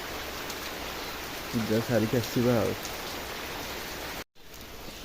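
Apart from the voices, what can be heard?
heavy rain falling outside temple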